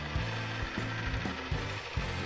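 Belt grinder working a knife bevel with a bevel jig on a leaf spring blade, a steady loud abrasive hiss with repeated low rhythmic thumps from the passes against the belt.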